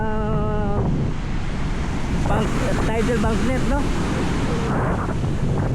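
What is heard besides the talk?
big ocean waves at Dahican Beach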